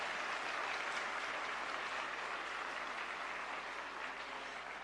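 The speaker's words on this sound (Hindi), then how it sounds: "तालियों की गड़गड़ाहट से धन्यवाद स्वामी जी का।" Steady, even applause from an audience at the inaugural session of a yoga conference, a soft continuous wash of many hands that holds for several seconds and fades slightly toward the end.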